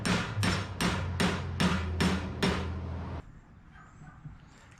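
Seven evenly spaced, ringing hammer blows on metal being bent to a 90-degree angle for a battery tray build, loud and close, then the strikes stop and a quiet workshop remains.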